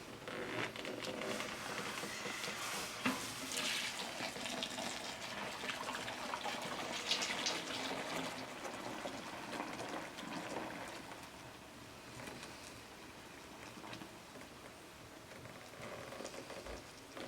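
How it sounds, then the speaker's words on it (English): Sugar cane syrup being poured into a stainless steel kettle makes a soft, continuous liquid trickle and patter, faint and steady throughout, with outdoor background noise and no talk. "And we're pouring it into a stainless steel kettle to take into the house."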